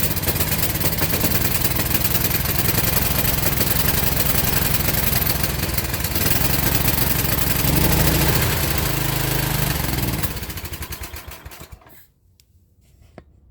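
Small pull-start engine with a broken pull cord, throttle up and choke on, running loud and steady with a busy mechanical drone, then cutting off and dying away near the end.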